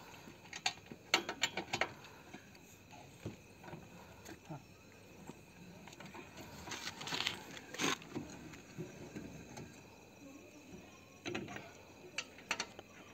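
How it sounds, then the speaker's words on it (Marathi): Wheel nuts being tightened by hand while a Toyota tyre is fitted, giving scattered metallic ratcheting clicks and clanks in irregular bursts, close and moderate, with some background noise. "टायर फिट झाल्यावर असे थोडेसे नट टाईट करून घ्यायचे जेणेकरून टायर तिरकं फिट नाही होणार."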